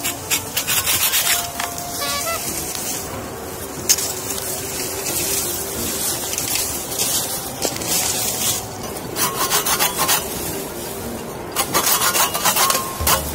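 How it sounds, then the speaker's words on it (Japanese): Green bamboo being cut with a hand saw outdoors in winter, a steady rasping, rubbing stroke that carries on at close range for the whole stretch with no voices. "この竹を切っていきましょうか。"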